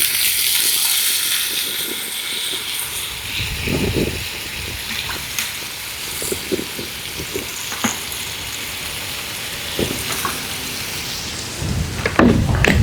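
Steady, broad hiss of tilapia frying in a hot pan, crackling and spitting continuously with louder bursts as two spoons of water hit the hot oil around the fish.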